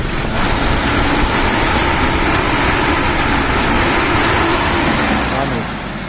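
A Mitsubishi Pajero 2 with a 2.4 petrol engine and a locked fan clutch, running at a steady loud idle with a broad, roaring whoosh that holds constant before easing slightly at the end.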